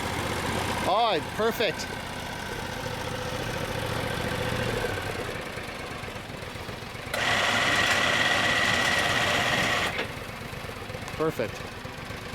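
An ARGO amphibious ATV engine runs at a steady mid-pitched drone while driving over grass, rising in revs partway through, with people talking briefly over it.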